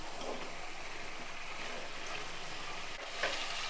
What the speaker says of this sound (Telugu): కారంలో కూడా కాసేపు బాగా నూనెలో మగ్గపెట్టుకుంటే బాగుంటుంది.